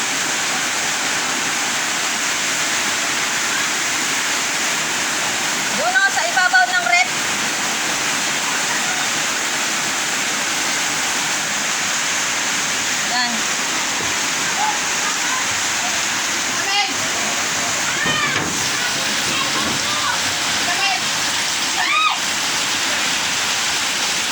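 Floodwater pours into a house in a steady, loud rushing roar that fills the whole stretch, with faint voices and small splashes breaking through now and then.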